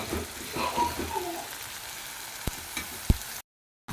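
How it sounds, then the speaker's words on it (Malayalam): Onions for biryani frying in a pan give a close, moderate sizzle with a few stirring clinks and knocks, ending abruptly after about three seconds. "ഉള്ളിയിടും മതി കുറച്ച് മതി ഇനി ഇതൊന്ന് മൂത്ത് കിട്ടട്ടെ"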